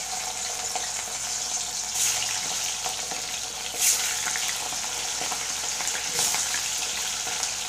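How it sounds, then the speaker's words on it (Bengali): Pieces of chicken frying in oil in a pan for a home-cooked chicken roast, a continuous close hiss and crackle with a few louder spatters as pieces are turned, no talking. "আমি মুরগিগুলোকে তেলে ভেজে ফেলবো"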